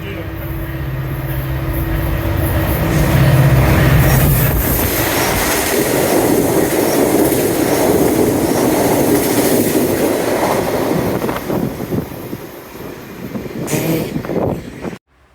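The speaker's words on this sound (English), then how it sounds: "It's an express train, not making any stops whatsoever." VIA express train with one F40 locomotive and six LRC coaches passing through Aldershot station in Burlington, Ontario, without stopping: a loud, close rumble with clattering wheels that holds steady, then drops away near the end.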